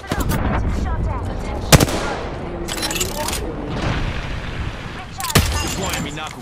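Gunfire in the battle royale shooter Apex Legends, bursts of rapid shots and heavy impacts crackling close by, dense and loud with a couple of sharp peaks, mixed with game voice lines.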